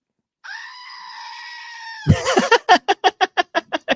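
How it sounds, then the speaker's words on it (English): A goat lets out a long, loud, sustained scream, followed by a rapid run of about ten short, evenly spaced bleating yells that stop abruptly. "as the goat says"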